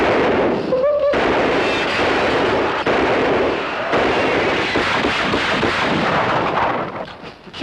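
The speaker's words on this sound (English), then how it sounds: "He's shot clean through, Judd, you hear?" Gunfire in a western TV episode, a dense volley of loud rifle and gun shots and bursts blending into a sustained roar, with a brief voice near the start.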